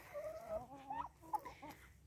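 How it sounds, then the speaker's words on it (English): Farm chickens cluck and make short, warbling calls close up in a quick, uneven burst of a few notes over quiet background noise. "yeah, all of our chickens in here."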